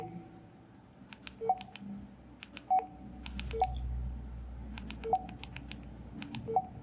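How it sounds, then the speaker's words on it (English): Baofeng UV-5R Mini handheld radio sending DTMF tone bursts on PTT press: several short, separate beep sequences of dialing tones spread across the stretch, faint over low background rumble. "These are again DTMF options to be sent when we press the PTT."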